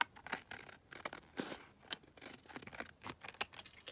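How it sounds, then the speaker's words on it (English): Scissors snipping through paper to cut off printed numbers, a quick series of close, crisp cuts and rustles in uneven rhythm, quiet and alone. "let's cut the numbers off. So I'll just cut those across here."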